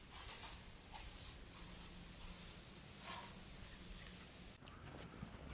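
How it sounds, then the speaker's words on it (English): Five short hissing bursts of an aerosol bug spray can, evenly spaced, close by in a quiet outdoor setting, followed by a faint click. "I forgot to put on bug spray"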